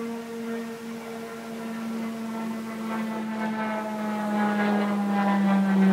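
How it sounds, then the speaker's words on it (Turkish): An airplane passes overhead outdoors, a steady droning hum with a tonal whine that grows slowly louder over several seconds, with no voices. "Uçak. Bak orada uçak."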